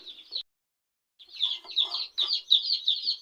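High, rapid peeping calls from a group of young chicks, with a brief pause before the chirping resumes, busier and overlapping.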